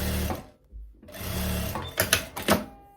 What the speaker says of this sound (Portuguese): A máquina puxar da minha mão e ficar uma costura bonita